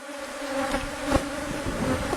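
Honeybees drone steadily at an open hive being inspected, a soft, continuous buzz with individual bees passing close now and then.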